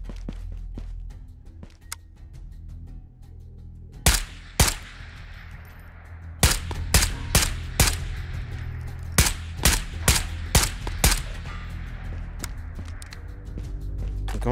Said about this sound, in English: Not sure if I just heard a gunshot.